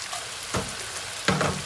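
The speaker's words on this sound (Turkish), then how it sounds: "Havuçlarımızı bir sallayalım." Carrots frying in a pan in a home kitchen, a steady soft sizzle broken by two quick tosses that each bring a brief scraping, hissing burst.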